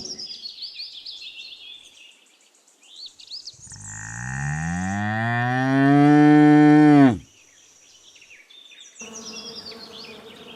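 A bull gives one long, loud, drawn-out moo that rises and holds before cutting off, with buzzing insects and birdsong around it on a farm.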